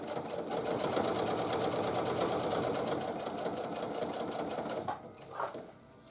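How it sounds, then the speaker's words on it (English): A sewing machine runs steadily, stitching a quilt-as-you-go table runner in one continuous close, loud whir. It stops near the end, and a few brief shuffles and handling sounds follow. "just put my presser foot down, and we're going to start sewing"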